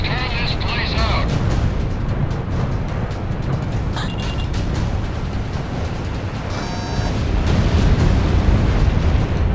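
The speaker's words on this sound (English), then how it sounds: "Garuda 1, commencing full rocket fire" Rocket fire and explosions in Ace Combat 6 combat, a continuous roaring barrage of blasts and rumbling booms with sharp bursts and electronic beeps, loud and close under radio chatter.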